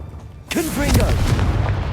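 A Confringo fire spell blast in Hogwarts Legacy, one loud sudden whooshing boom that lingers in a roaring tail, with a voice briefly sounding over it.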